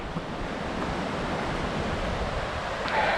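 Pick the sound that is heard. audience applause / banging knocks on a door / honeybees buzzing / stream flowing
stream flowing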